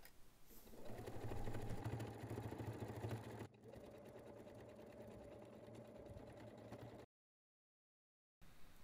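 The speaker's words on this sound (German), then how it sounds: "Mit einer Nahtzugabe von 1 cm werden die beiden Teile nun zusammengenäht." A sewing machine stitches two fabric pieces of a zippered bag together, a steady close whirring hum that shifts speed partway through, then stops briefly before starting again.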